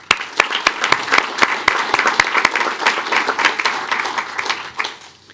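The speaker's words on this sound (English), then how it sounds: "let's give a round of applause to our speech team and staff." An audience at a school board meeting breaks into applause, a burst of many hands clapping with sharp individual claps standing out, fairly close and lasting several seconds before tapering.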